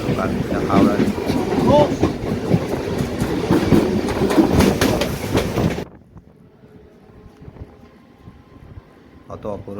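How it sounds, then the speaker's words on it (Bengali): A Tarakeswar local train enters Howrah station with a loud, close rumble and rhythmic rail clatter for about six seconds, then the noise cuts away to a much quieter background. "তারকেশ্বর লোকাল, এটা হাওড়া ঢুকছে।"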